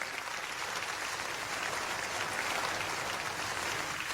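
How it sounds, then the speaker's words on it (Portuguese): A church congregation claps together in sustained, dense applause that stays loud and steady throughout, with no voices standing out above the clapping. "Pode glorificar o Senhor com palmas."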